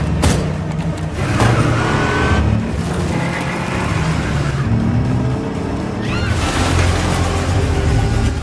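Cars race through a chase at close range, engines roaring and revving continuously with tire squeals and passing swooshes over a steady loud rumble.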